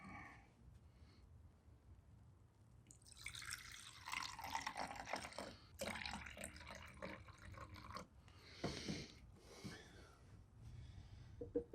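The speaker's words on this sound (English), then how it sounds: "You do want to make sure that you top the dialing sprayer off with water" Water running and splashing into a dial hose-end sprayer bottle as it is topped off, a broadband gushing fill starting a few seconds in and continuing in bursts, fairly close and loud with no talk.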